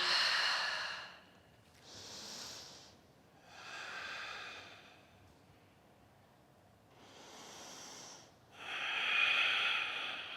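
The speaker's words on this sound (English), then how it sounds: "Nice full breaths into the rib cage." Deep, slow breaths during a power flow yoga class, five long airy inhales and exhales spaced a couple of seconds apart, close and hissy with quiet pauses between them.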